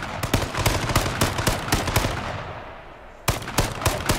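Rapid automatic gunfire bursts in H1Z1 battle royale, a dense run of loud repeated shots that stops briefly near the end before firing resumes.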